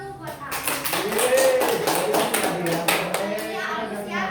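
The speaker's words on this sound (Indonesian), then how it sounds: "kasih tepuk tangan dulu buat aku." Students in a classroom clap their hands together for a classmate after a micro-teaching talk, a close, busy burst of claps mixed with children's voices and chatter.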